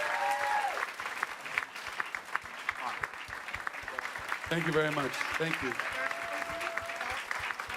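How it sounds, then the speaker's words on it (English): Convention audience at Nerd HQ 2016 applauds steadily throughout, a crowd of clapping hands in a hall while someone speaks briefly over it. "Let's give her another round of applause."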